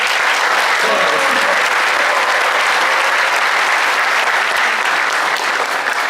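A large audience at a live urban regeneration event applauds loudly and steadily to welcome a government land minister, a dense, unbroken wash of clapping that holds for several seconds.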